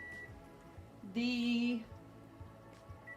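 A kitchen timer goes off while vegetarian Ukrainian borscht is cooking, sounding one steady electronic beep of under a second, faint against quiet room tone, with someone speaking softly nearby.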